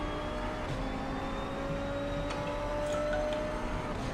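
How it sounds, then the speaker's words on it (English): KTM GT2 race car engine in a sim racing game at Watkins Glen, a steady droning hum with faint ticking, heard from the cockpit, moderately quiet. "What does this KTM sound like?"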